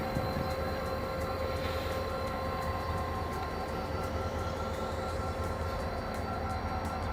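A locomotive of the Shah Latif Express idles at a station with a steady, loud, droning rumble and hum that runs without a break.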